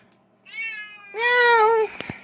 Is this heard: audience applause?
no